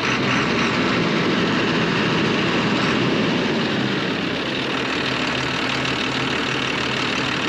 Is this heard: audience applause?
no